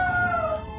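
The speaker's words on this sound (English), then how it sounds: "Keep howling, Rubble." A cartoon puppy gives a short, clear, rising-then-falling howl, a single brief tonal cry heard alone.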